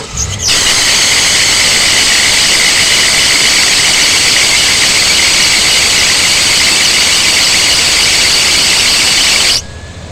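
A loud, continuous high-pitched squeal from an old serpentine belt screams from a running car engine, holding steady for several seconds before cutting off.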